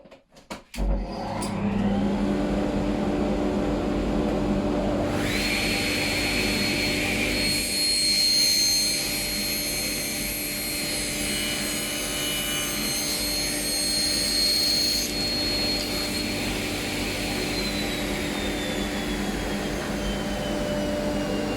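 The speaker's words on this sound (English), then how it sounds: "we're going to put the dust extractor on." Woodworking dust extractor switched on in a shop, rising to a loud, steady whooshing roar with a high whine on top that runs continuously, with some added machine noise partway through.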